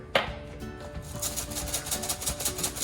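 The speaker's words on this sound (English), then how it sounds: "go ahead and finish dicing our chives. Quick rough chop on those." A knife rough-chops chives on a cutting board during an outdoor farmers' market cooking demo, a quick run of close, crisp taps following one sharper hit, with faint background noise.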